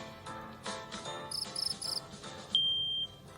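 Rapid cricket chirps in short bursts over a busy game soundscape, ending in a sustained high electronic tone.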